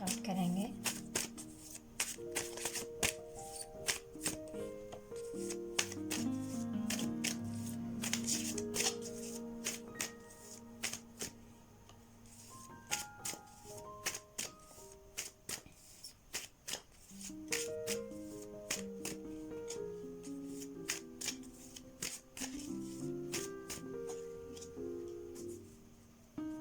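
Tarot cards being shuffled in repeated soft riffling bursts, sitting under steady background music with melodic tones throughout.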